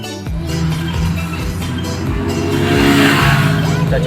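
Daihatsu Ceria small car pulling hard in second gear, engine note climbing steadily in pitch and loudness across a few seconds, close and dominant.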